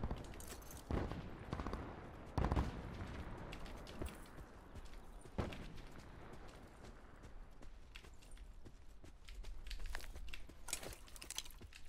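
Distant gunfire in the Call of Duty Black Ops 4 battle royale mode crackles as scattered bursts and single shots over steady game ambience and footsteps, fairly faint throughout.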